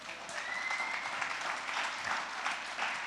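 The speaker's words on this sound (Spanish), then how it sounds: "Dale ese aplauso a nuestro Dios." A church congregation applauds together, a steady wash of many hands clapping heard at a moderate distance, quiet and even throughout with a faint voice rising briefly over it.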